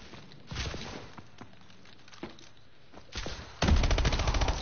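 Gunfire in the video game Call of Duty: Advanced Warfare during a free-for-all match: a few scattered shots, then a sustained loud burst of rapid automatic fire near the end.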